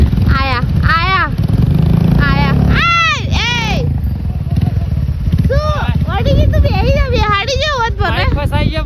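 A Royal Enfield Bullet motorcycle stuck in mud near a dam, its engine revving hard and steady in the background while several people talk and shout over it throughout.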